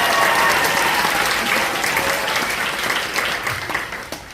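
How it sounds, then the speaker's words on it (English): Sustained audience applause at a school band concert with community and middle school bands, a dense wash of clapping that holds steady and slowly thins toward the end. "Everybody give Mr. Chase Shaw a round of applause."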